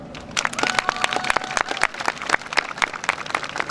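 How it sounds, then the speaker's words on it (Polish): A crowd applauds outdoors at a Polish march for freedom and sovereignty, with sharp, crackling claps close by over a constant murmur. A faint whistling tone drifts through. "Wielkie brawa!"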